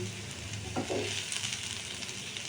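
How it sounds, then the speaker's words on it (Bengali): Vegetables frying in a pan with mustard seeds and curry leaves, stirred so a scraping swish rises over a steady close sizzle. "দেখো সব ভালো করে মিশিয়ে দিয়েছি"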